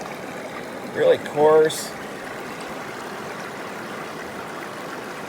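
The Yuba River flows past in a steady broadband rush, loud and close, with brief talking near the start before the water carries on alone.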